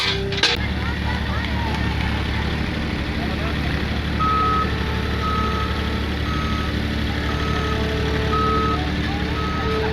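A forklift's reversing alarm beeps in an even, steady rhythm over the constant rumble of its engine, the pulses starting partway through and repeating to the end.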